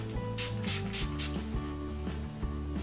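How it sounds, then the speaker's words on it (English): A few quick spritzes of makeup setting mist from a spray bottle hiss close by, over steady background music. "So I'm just going to spray a very little amount of the sort of setting mist."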